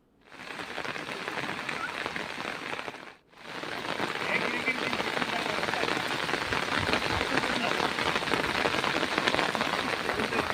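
Steady rain in Telangana pours down onto surfaces as a dense, even hiss that briefly cuts out near the start, then continues loud and unbroken.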